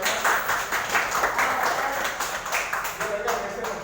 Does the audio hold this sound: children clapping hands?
yes